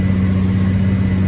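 A Kuhn baler runs steadily with a loud, constant low mechanical drone and hum, close by and unbroken, with no talking.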